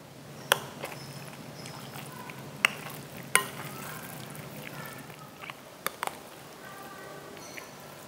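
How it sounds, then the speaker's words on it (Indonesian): A tofu and egg mixture for tofu martabak is stirred in a bowl, with soft scraping and several sharp clinks of the utensil against the bowl. The sound is quiet and close, with no talk. "Lalu kita aduk rata."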